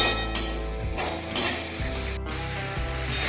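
Onions sautéing in a pan for onion chutney make a soft, continuous sizzle beneath steady background music.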